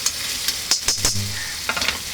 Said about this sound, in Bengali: এবার এটা ভালো করে কষাবো, তারপরে যখন দেখবো যে মশলা কষে গেছে তখন মাংসটা অ্যাড করব।